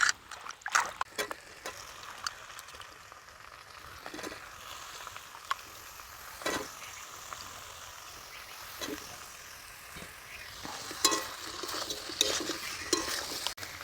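Mrigal fish curry is sautéed in a pan with a little sugar. Quiet sizzling runs under scattered scraping and clinking of a spoon against the pan, with no talking.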